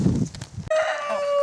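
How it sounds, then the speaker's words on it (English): Chickens in a homestead chicken coop, with a short burst of low clucking and rustling up close, then a sustained higher-pitched call cutting in sharply and holding steady to the end. "another very important part to our self-sufficiency is these chickens and my chicken coop"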